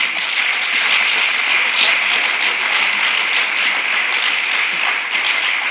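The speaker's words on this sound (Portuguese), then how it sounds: "Dê uma salva de palmas" Audience applause at a women's church gathering honouring a guest woman of God, a continuous even patter of many hands, bright and steady for several seconds without talk.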